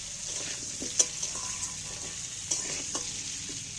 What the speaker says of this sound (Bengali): সব কিছু নুন আর হলদি দিয়ে আলুগুলোকে তেলের মধ্যে নাড়াচাড়া করে ভালো করে ভেজে দিচ্ছি